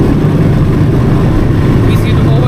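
Suzuki V-Strom 250 motorcycle cruising in fourth gear on a city road, its engine a steady low drone and rumble heard up close under the rider's talking.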